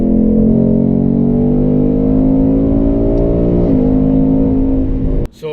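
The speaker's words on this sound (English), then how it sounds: "Anytime you press on the gas at any RPM, just the car goes and screams." A Ford Mustang GT V8 accelerates hard, its engine and exhaust droning loud and close as the revs climb steadily, then shift mid-pull and keep building before a sudden cut near the end.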